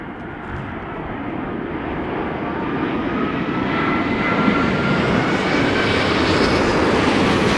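A large airliner lands in strong wind at London Heathrow, its engine roar loud and steady, swelling slightly as it draws nearer and holding a broad continuous rush throughout.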